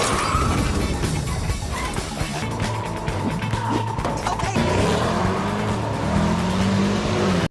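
A car chase crash in an action film, with squealing tires, revving engine and a smashing impact, loud and dense throughout with no talk.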